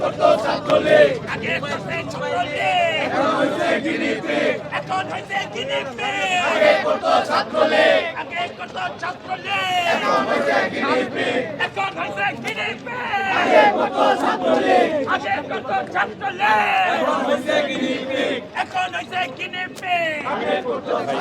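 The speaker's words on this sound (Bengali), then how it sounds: "তারা বিভিন্ন স্লোগান দিয়ে আসছিলেন" Student protesters on a march against alleged vote rigging in a university student union election chant slogans in loud, rhythmic unison, the crowd's voices surging and falling steadily throughout.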